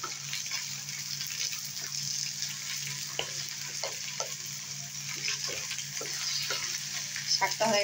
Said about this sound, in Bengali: আর শাকটাকে অনবরত এভাবে নেড়ে চেড়ে রাখতে হবে